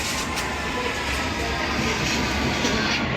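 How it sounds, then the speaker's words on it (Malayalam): A train pulls into a station with a continuous, loud rolling rumble and a faint rhythmic rattle of wheels on rails, heard close and steady throughout. "പോണ ട്രെയിൻ വന്നു."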